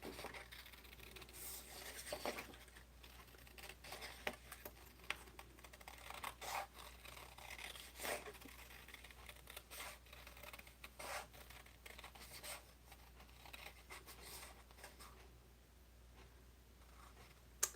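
Scissors snip and rub through paper during fussy cutting for a card-making craft project, a steady run of soft close crisp cuts and paper rustles with no talking.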